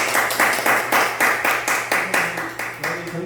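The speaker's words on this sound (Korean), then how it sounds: "박수로 받아주시죠." A small group in a lecture room clapping to welcome a speaker, a steady rhythm of about a dozen loud, close, evenly spaced claps.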